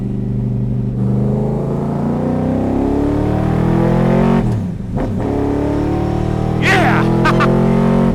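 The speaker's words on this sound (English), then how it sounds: "500 plus horsepower, 327 small block Chevy, T10 gearbox, What an animal!" A car with a 500-plus horsepower 327 small block Chevy V8 and a T10 gearbox being driven, its loud, steady engine drone filling the whole clip while a voice shouts over it.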